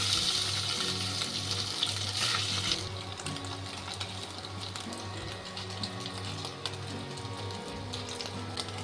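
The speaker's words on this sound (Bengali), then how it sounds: "আমি পনিরগুলো তেলে দিয়ে হালকা করে ভেজে নিচ্ছি" Paneer pieces fry in about four spoons of hot white oil in a pan, giving a steady close sizzle that is louder for the first few seconds, then settles into softer, continuous crackling.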